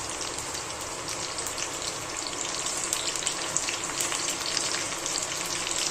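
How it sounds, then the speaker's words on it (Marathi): Curry leaves and chilies sizzle steadily in hot oil, a dense, continuous crackling fry heard close up with no talking, for a rural Maharashtrian pomegranate-style poha dish. "तेलामध्ये आहे ना मिरची टाकलेली आहे आणि आता कढीपत्ता टाकून घ्यायचा आहे"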